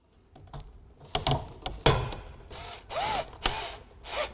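A screw gun drives screws to fix a vinyl siding panel to a wall, with short bursts of whirring and clicking, a couple of louder runs, and handling knocks in between, close up.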